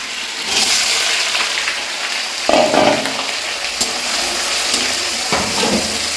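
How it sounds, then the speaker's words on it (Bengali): A fish head frying in a pan of hot oil for a bottle gourd dish, giving a steady close sizzle with a few brief louder bursts of spattering and stirring. "লাউ দিয়ে মাছের মাথা ভেজে নিচ্ছি।"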